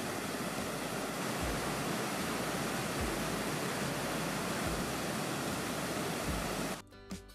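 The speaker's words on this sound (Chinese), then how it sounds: "还有这水坝形成的小瀑布" A small waterfall formed by a dam on a forested Canadian river, heard as a loud, dense, continuous roar of falling water that cuts off abruptly near the end.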